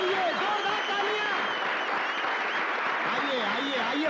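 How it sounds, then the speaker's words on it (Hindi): Applause from an audience at a Hindi film gathering where a ghazal recital is announced, a dense steady patter with a voice and pitched tones threading through it. "तालियां, जोरदार तालियां।"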